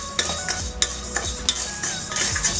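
Bamboo rice grains are dry-roasted in a pan with frequent stirring, producing repeated rattling scrapes and light clinks over a faint crackle, close and fairly loud.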